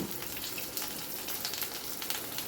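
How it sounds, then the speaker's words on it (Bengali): Chopped onion added to browned garlic in a hot pan for a ridge gourd dish, a soft, continuous close sizzle with crackling bursts throughout. "রসুনটা কিন্তু বেশ ভাজা ভাজা মতো হয়ে গেছে যখন, তখন আমি কেটে রাখা পেঁয়াজটা দিয়ে দিলাম"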